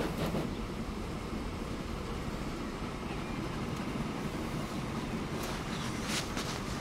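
A train runs in the video game Transport Fever, a steady, moderately quiet rolling rumble with faint rail noise that continues unbroken.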